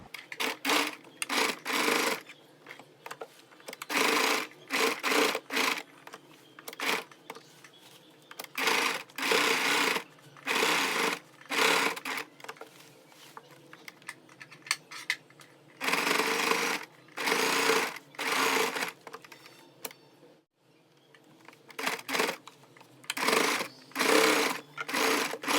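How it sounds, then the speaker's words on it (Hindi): A sewing machine stitches a pintuck design onto a boat-neck garment, running loud and close in repeated bursts of fast whirring separated by short pauses. "अब हम इस तरह से पूरे नेक में सिलाई लगा लेंगे"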